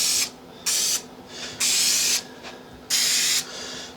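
An aerosol can of spray adhesive hisses in four short bursts onto fabric, each lasting about half a second, separated by brief pauses, close to the microphone.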